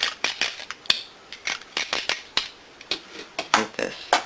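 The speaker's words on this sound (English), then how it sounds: "Get my tape here." Tape pulled and torn while making a handmade wedding card, a series of short, crisp ripping and snapping bursts at close range, coming in an uneven rhythm with quiet gaps between them.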